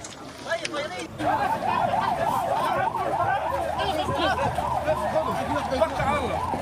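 An emergency ambulance siren in Khan Younis, as the wounded from an air strike are loaded, wails in a fast rising and falling cycle, loud and continuous, over crowd babble and voices.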